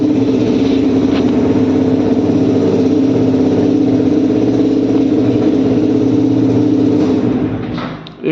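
Yamaha R15 V4 motorcycle engine running at a steady idle, loud and close with a constant low throb, cutting out abruptly near the end.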